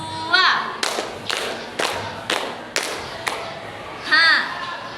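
A class of children clapping a counted pattern: sharp, distinct claps in spaced groups, with brief young voices chanting at the start and end.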